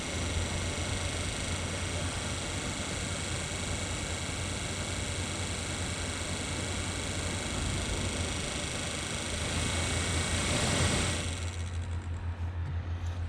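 A removed blower motor from a 2016 Jeep Renegade Trailhawk spins at high speed, giving a steady, loud, airy whir with a low hum underneath that shifts briefly near the end, with no voices.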